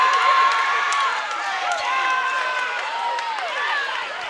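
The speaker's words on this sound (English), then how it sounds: "Crowd is loud right now" A loud basketball crowd cheers and yells during a college game at Henderson State, a continuous wash of shouting voices with some whistles and shrill calls rising above it, fairly close and steady throughout.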